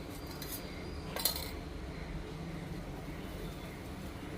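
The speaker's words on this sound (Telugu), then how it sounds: "ఈ గిన్నె పెట్టుకున్నాను." A metal cooking pot is set down on a gas stove, giving one brief clank of cookware near the start over a steady low burner-and-room hum.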